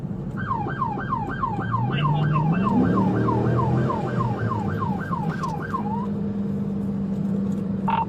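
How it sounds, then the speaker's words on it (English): A wailing police car siren cycles rapidly up and down about fifteen times during a traffic stop, with the vehicle engine rumbling underneath, then the siren cuts off. "Deputy Meeks activated his lights and sirens to initiate a traffic stop."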